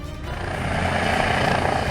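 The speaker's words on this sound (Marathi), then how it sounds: "लँडिंग करताना हेलिकॉप्टर हेलकावे खाऊ लागलं" A helicopter rotor roars steadily and loudly at a helipad as it comes in to land and wobbles, a dense, continuous drone with no talk.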